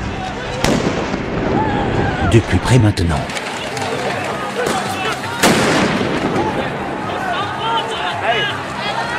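Sharp explosive bangs of stun grenades burst out in a cluster at a protest, followed by another loud blast moments later, amid crowd noise with a voice speaking close by.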